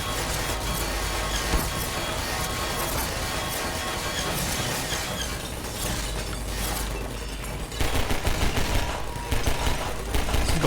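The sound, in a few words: turret gunfire in the video game Half-Life 2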